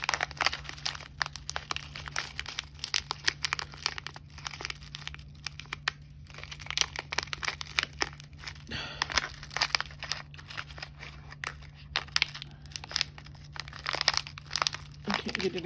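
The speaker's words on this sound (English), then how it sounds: "It's crinkling. You're making a noise, Deanna." Crinkly packaging or plastic being handled during beading work with crimps and bead caps, giving irregular close crackles and rustles throughout, with a steady low hum beneath and brief talk at times.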